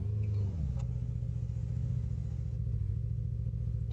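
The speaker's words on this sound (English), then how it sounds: "I keep stalling it in reverse because it really does not like reverse." A Ford Cobra in the BeamNG Drive video game idles with a low, steady engine rumble that dips briefly and then settles into a flat drone, with no clear stall.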